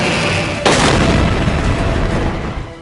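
A Pakistani Nasr short-range missile launch, heard as a sudden loud boom breaking through a continuous roaring rush that fades gradually afterward.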